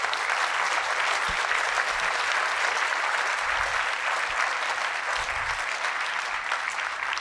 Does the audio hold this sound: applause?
yes